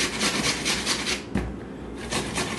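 Spices for Afghan chapli kabob being ground by hand, a close, continuous rasping rub in quick repeated strokes with one brief pause midway.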